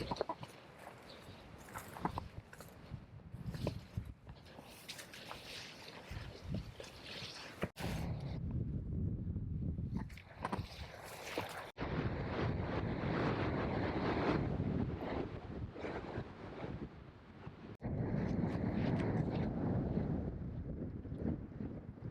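Strong wind gusting across an outdoor wilderness site in Victoria, roaring into the microphone in sustained, loud buffeting surges with brief lulls, with no talk over it.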